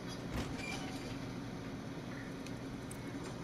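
A train in the video game World War Z Aftermath gives off a steady, broadband rumble of rolling rail noise with faint wheel squeal and clatter, continuous and moderately loud, with no speech.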